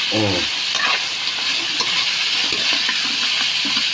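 Food frying in a pan gets stirred during a Holy Thursday home cooking session, a steady close sizzle with scraping stir strokes throughout.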